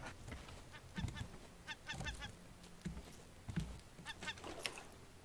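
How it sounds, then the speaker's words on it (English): Honking, goose-like bird calls in the survival game Raft, a series of short two- and three-note cries repeating every second or so, faint and distant over a quiet background. "I hear a bird."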